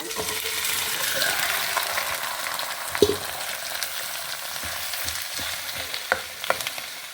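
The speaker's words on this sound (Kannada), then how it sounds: "ಹಸಿಮೆಣಸು ರೋಸ್ಟ್ ಆಗ್ತದೆ. ಹಂಬೆ ಹಾಕೊಂಬ." Green chillies roast in a pan as chopped banana stem is added, giving a steady close sizzle with a few sharp knocks and scraping stirs, no voices.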